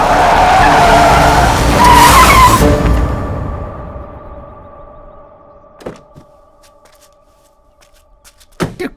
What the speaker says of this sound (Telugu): ఎదురు కారు వస్తుందమ్మా